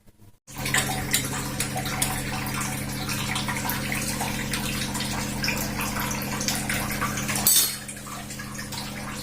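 Hot water with turmeric poured into a vessel for washing vegetables, a steady gushing flow running near and continuous for several seconds, briefly louder near the end.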